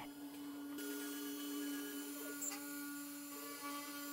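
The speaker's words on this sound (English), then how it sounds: "We'll zero it out and start sending the G-code to the machine." CNC machine running G-code while machining a plaque, a quiet steady whine with sustained tonal hum and a few faint tool shifts, continuous throughout with no speech.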